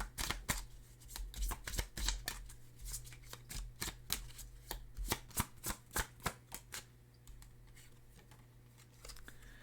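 Tarot cards are shuffled by hand in a quiet room, a soft, irregular run of crisp slaps and riffles that comes in quick bursts.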